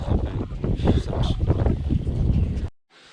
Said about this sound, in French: J'ai pas réussi à me rendormir parce qu'il y a de la pluie. Avec le vent, je vais tremper et tout.